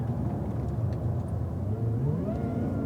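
A Cadillac CTS-V rolls slowly back into the pits after a driving event, its engine a steady low rumble close by with a gentle rise in pitch near the end, no voices over it.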